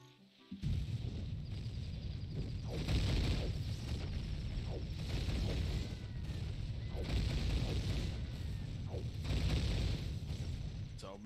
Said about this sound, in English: Many explosions.